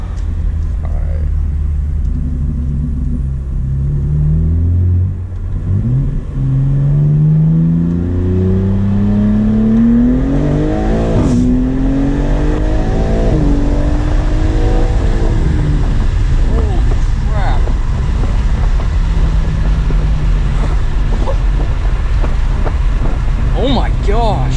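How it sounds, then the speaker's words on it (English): BMW G80 M3 with a Stage 1 tune accelerating hard, its engine note climbing through rising revs with shift drops between gears, loud and close in the cabin, while a person talks over it. "I don't know if you guys heard that shift drop, but that's way loud."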